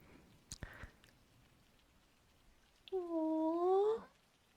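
A cat gives a single drawn-out, wavering meow near the end, following a few faint scuffs and clicks in an otherwise quiet room.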